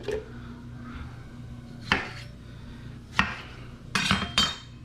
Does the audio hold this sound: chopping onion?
yes